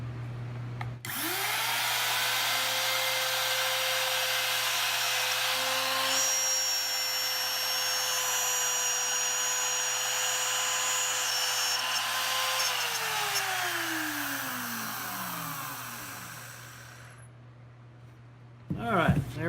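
A trim router driven along a jig cuts the saddle slot into a wooden guitar bridge, whining steadily and loudly for about sixteen seconds with a rising spin-up at the start and a falling wind-down near the end.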